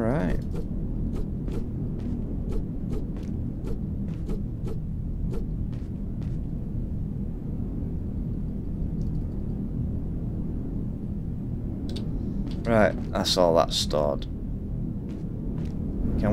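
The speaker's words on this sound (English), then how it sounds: "Can we have rid of this storm now, please?" A storm rumbles in the video game Heat Death: Survival Train, a steady, dense low roar that fills the whole stretch while someone talks over it, with a few brief sharper noises near the end.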